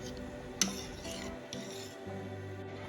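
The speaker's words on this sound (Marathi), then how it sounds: "डाळ शिजल्यानंतर एकदा घोटून घ्यायची म्हणजे व्यवस्थित एकजीव होते" A utensil scrapes and rubs against a pot while mashing cooked dal, close, soft rasping strokes with a sharper knock early on, alone without talk.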